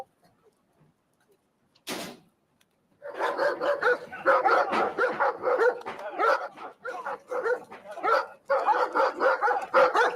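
Several dogs bark excitedly in rapid, overlapping bursts at close range after a brief thud, continuing loudly with short pauses and some yips.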